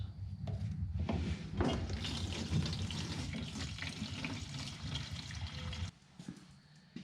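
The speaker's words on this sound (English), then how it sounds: "Okay, I'm going to put a small amount of fuel in it." Fuel being poured into an abandoned lawn mower, a continuous close liquid gurgle and splash that runs for several seconds before dropping off abruptly to a quieter trickle.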